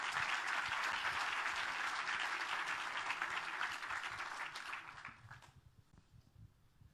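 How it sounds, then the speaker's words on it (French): An audience at the final of a start-up pitch competition applauds loudly and continuously, the clapping thinning and fading out near the end. "si vous comptez m'applaudir ce soir, je vous en prie, applaudissez-les eux aussi."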